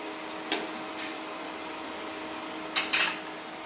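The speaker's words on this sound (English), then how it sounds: "I'm going to use this pan." A pan is handled while mango sauce is being made, giving a few sharp metallic clinks and clatters, a single knock early and then a quick double clank near the end, with quiet gaps between.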